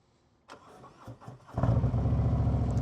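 A 2023 Harley-Davidson CVO Street Glide motorcycle cranks with a few starter churns, then fires up into a loud, close, throbbing idle.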